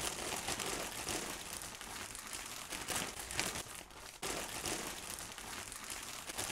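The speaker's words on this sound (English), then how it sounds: "I'm gonna just jiggle the silicone around in the bag with the cornstarch" Silicone is jiggled inside a plastic bag with cornstarch, making continuous close crinkling and rustling of plastic with soft shuffling pulses and a brief pause partway through.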